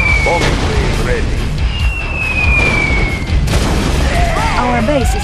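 Bombers hit a base in Yuri's Revenge with heavy, continuous deep booms and rumbling explosions, loud and close, under sweeping whistles, short game effects and brief unit voice callouts.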